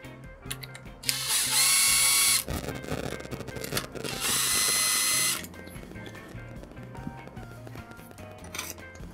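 A ratchet or air tool works loose the connecting rod caps on a GM 6.5 turbo diesel engine, with two loud bursts of rapid whirring and rattling, each lasting over a second, between clanks and handling noises of parts.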